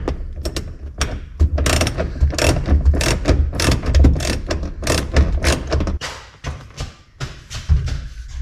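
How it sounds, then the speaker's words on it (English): Ratchet clicking in quick bursts while seats are bolted back into a classic Toyota Land Cruiser, close and loud, with thumps between strokes and pauses toward the end. "Bolting the seats back in after putting these flash new seat belts in"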